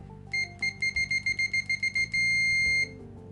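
A cheap BTMETER BT-39C digital multimeter in continuity mode beeps as its default test probes touch: a quick series of short, shrill tones followed by one sustained beep, clear and close, with no speech.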